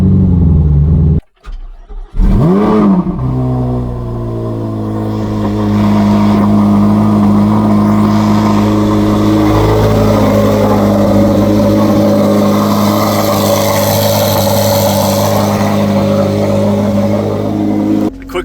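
A Corvette C8 Z06 starts up loud and close, its engine catching with a sharp bark and then settling into a steady, rumbling idle with the exhaust valves in quiet mode, holding a deep drone throughout.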